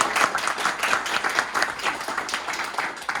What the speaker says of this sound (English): Leanne gets a round of applause for